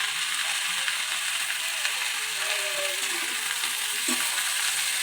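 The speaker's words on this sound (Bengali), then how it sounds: "এইবার এটা দিয়ে আমি একটু নেড়ে নিই।" Cleaned pumpkin stems frying in a pan and being stirred with a broad hiss, plus a few faint scrapes and a brief tonal squeak.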